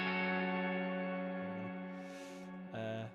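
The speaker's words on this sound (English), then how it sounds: "Got some pitch shifted reverb just to give it a bit of width and a bit of kind of ambience" Sustained tonal chords ring out through pitch-shifted reverb, with a wide, washy reverberant tail and a faint shimmering swell, no voices, fairly quiet.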